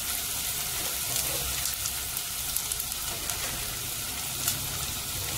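Chopped brinjal frying in a pan for brinjal sambal, giving a steady, fairly loud sizzle and crackle that carries on without pause.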